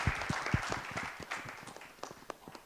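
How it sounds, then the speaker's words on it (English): A small crowd at a Jain community celebration gives a round of applause for the committee, scattered hand claps sounding moderately close and fairly quiet, with a few sharper individual claps standing out from the soft, uneven patter. "So a big round of applause to our current committee."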